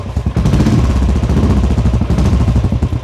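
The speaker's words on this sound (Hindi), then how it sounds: "फाइनली ये हो गई मोटरसाइकिल स्टार्ट और आवाज़ सुनो।" A Royal Enfield motorcycle with an aftermarket exhaust idles loudly and close by, with a deep, steady thumping exhaust beat throughout.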